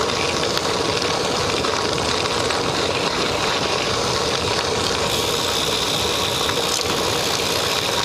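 Steady, loud engine drone of a motorcycle while riding on the road, a constant rumble mixed with wind noise that carries on unbroken throughout, no voices.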